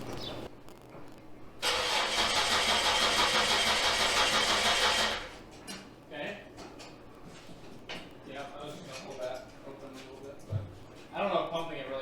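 A fuel-injected car engine cranks steadily for about three seconds with a loud starter whir, then stops; afterward there is quieter mechanical clatter while people talk nearby.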